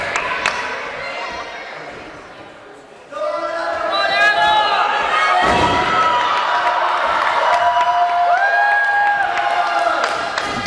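A wrestling crowd at an SCW heavyweight championship match cheers and shouts loudly and continuously, swelling after a brief dip, with a few thuds from the ring beneath the sustained roar.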